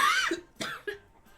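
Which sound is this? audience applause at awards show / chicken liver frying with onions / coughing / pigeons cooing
coughing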